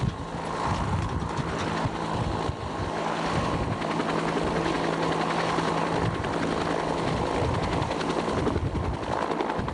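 A military resupply helicopter idling nearby on the ground before lift-off, giving a steady, loud rotor and engine roar with a constant droning hum and rhythmic chop throughout; no talking.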